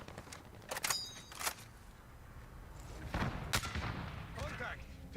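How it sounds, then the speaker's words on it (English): Gunfire in the Call of Duty Warzone 2.0 video game: scattered cracking shots and a few brief bursts, heard somewhat distant, with speech in the background. "Contact. Taking fire."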